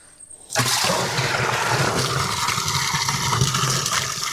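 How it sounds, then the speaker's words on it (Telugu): Liquid pours in a heavy, roaring stream into a 200-litre drum already filled with about 150 litres, starting abruptly after a quiet moment and continuing as a loud, steady splashing gush close by. "ఈ పంచిత దీంట్లో పోసుకోవాలి."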